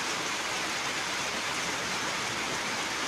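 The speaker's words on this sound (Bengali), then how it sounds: "কালবৈশাখী ঝড়ের সাথে শিলা বৃষ্টি আর মুষলধারে বৃষ্টি হচ্ছে" Heavy rain and hail pour down during a Kalbaishakhi storm, a dense, steady roaring hiss of downpour with no pauses, close and constant.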